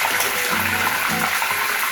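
Curry leaves dropped into hot coconut oil give off a loud, continuous sizzle with a dense crackling hiss that fills the whole short stretch without pause.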